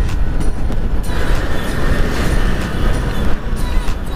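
A train passes at a railway level crossing, giving a loud, continuous rumble and rattle of rail cars close by throughout, with faint wheel clatter and no talking.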